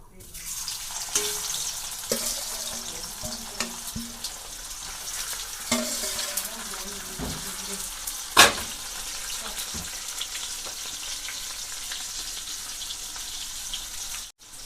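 Boiled potatoes frying in sunflower oil in a pan, a steady close crackling sizzle with occasional stirring scrapes and one sharp clatter, continuing throughout with no talk.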